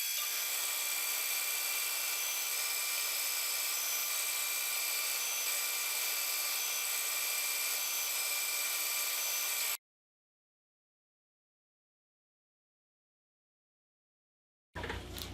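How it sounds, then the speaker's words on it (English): A bandsaw set at 90 degrees to the table cuts wood segments for a 24-segment-per-ring segmented bowl, a loud continuous whine that stops abruptly partway, leaving silence before a brief burst returns at the end. "My bandsaw is at 90 degrees to the table, and I'm cutting 24 segments per ring."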